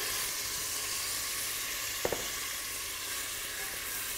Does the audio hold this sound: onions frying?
yes